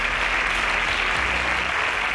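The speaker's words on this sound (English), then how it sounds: "A round of applause for him" Audience applauding quiz contestants at a televised competition round, a steady dense wash of clapping throughout the short stretch with no voices over it.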